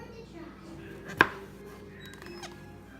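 A single sharp knife cut slices through a mushroom on a cutting board for gourmet mushroom risotto, one crisp thud amid quiet kitchen background with faint voices.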